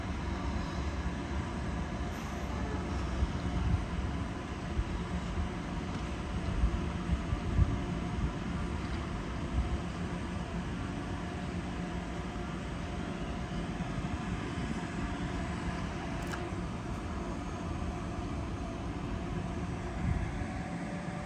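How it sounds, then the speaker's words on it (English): A steady, broad rumble of a passing DB intercity train on the mainline at Radebeul Ost, Germany, holds for the whole stretch, loud and continuous with no voices. "there goes an IC intercity type train whizzing by"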